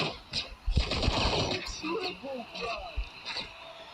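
Rapid bursts of gunfire in the game Frag Pro Shooter crackle in short clusters, mixed with game effects and a voice talking over the top.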